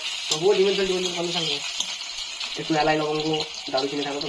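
Eggs fry in a pan with a steady hiss and sizzle close by, while voices talk over it in short bursts.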